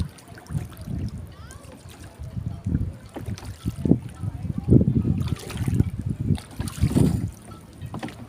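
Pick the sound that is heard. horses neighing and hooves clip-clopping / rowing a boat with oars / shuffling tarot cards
rowing a boat with oars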